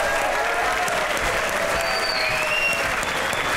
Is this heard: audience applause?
yes